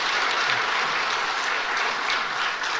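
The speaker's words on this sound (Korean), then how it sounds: "박수로 축하하겠습니다" A church congregation applauding after an infant baptism, a dense, even wash of clapping that holds steady throughout.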